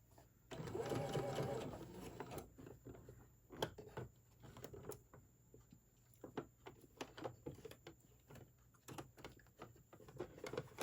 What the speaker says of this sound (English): And now I'm going to put it on my machine. We're going to sew this straight across.